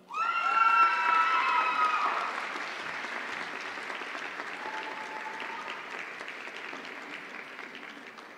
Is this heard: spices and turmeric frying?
no